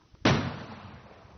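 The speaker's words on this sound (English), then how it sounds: "As he looked, he heard gunfire." A single sharp gunshot bursts out after a brief quiet, then trails off in a long, fading echo.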